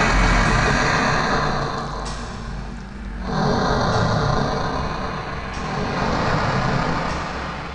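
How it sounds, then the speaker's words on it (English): Breathing monster sound from the film The Brain: heavy, rasping breaths that swell and fade in slow waves, loud and noisy with a deep rumble beneath. "there's your problem, your brain is breathing."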